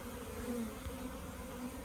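A low, continuous buzz of bees, faint and steady with no other sounds.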